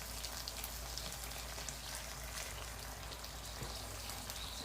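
Liquid hisses and crackles steadily in a hot cast iron pan of spaghetti all'assassina, a dense, even sizzle with no talk over it.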